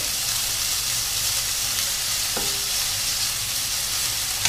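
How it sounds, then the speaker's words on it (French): Lardons fry in a pan beside shallot over medium-high heat, giving a steady, dense sizzle with a brief stir or scrape partway through, close and continuous without speech. "on ajoute les lardons"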